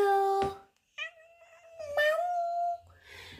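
Cats meowing loudly and close, several drawn-out, wavering calls in turn with short pauses between them, and no talking.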